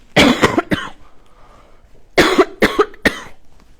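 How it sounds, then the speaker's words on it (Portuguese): A person coughs in two bursts, three sharp close coughs, a pause, then three or four more, each loud and dry with no talking between them. "Eu esqueci de falar da tosse."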